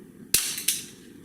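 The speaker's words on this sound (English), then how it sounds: "What you heard is that the pens hit the ground at the same time." Two pens strike a hard floor after being dropped and thrown, making two sharp, bright clicks about a third of a second apart against a quiet room.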